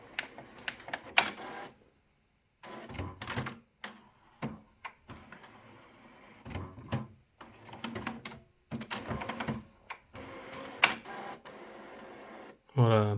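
An HP inkjet printer loaded with HP 363 cartridges runs its mechanism in stop-start bursts of clicking, whirring and clacking, close by with short pauses between, and a voice is heard at times.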